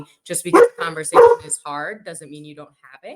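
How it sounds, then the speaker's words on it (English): A dog barks a few times behind a person talking, the yips mixed in with steady speech at close range. "Sorry, that's my dog."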